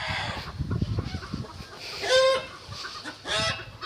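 A chicken clucks and squawks in short bursts, fairly close, over rustling and scuffling noises with a louder cackle in the middle.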